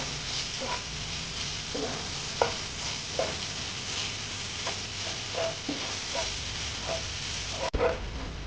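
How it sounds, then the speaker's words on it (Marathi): Crushed garlic fries gently over low heat in a pan, a soft steady sizzle broken by repeated scraping stirs and small clinks of the spoon, ending with a louder clatter. "मंद आचेवर लसूण चांगला फ्राय करून घ्यायचा."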